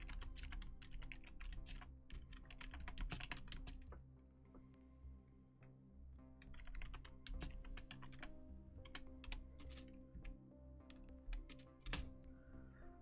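Computer keyboard typing runs close and steady throughout, with rapid clicking clusters and short pauses over a low constant background hum.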